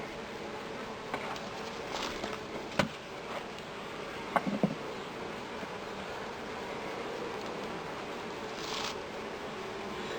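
Honey bees in a top bar hive give a steady, close, droning buzz that runs throughout, with a few faint knocks and rustles from handling.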